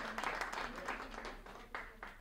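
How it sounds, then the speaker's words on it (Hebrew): An audience at a TED-style lecture breaks into brief, faint applause, scattered claps rising under the speaker's ongoing voice. "כן, כפיים, למה לא?"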